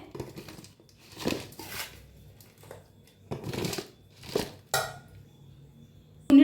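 Spoonfuls of homemade lemon and green chilli pickle going into a storage container, with scraping, clinking and rustling bursts of utensil against jar at close range, irregularly spaced, ending in a sharp knock.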